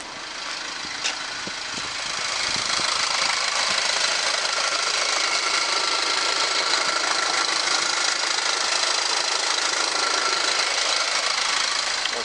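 An LDV G10 van's 1.9 turbo diesel engine idles close by, a steady, even clattering rumble with a faint rattle that settles in after a brief start and holds without talk.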